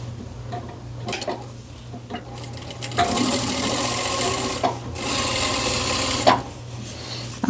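Sewing machine with a presser foot and edge guide topstitching the bottom of a fabric tote bag, short ticking pauses between two sustained, loud bursts of rapid stitching, no talking.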